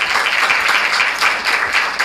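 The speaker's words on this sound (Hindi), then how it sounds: "सबसे पहले तो मैं चाहूँगा कि हम इन बच्चों के लिए जो इस इबादत को लीड कर रहे हैं ज़ोरदार तालियां बजाएं" A church congregation at a Sunday service applauds the Sunday School children leading worship, a dense continuous clapping from many hands filling the room throughout.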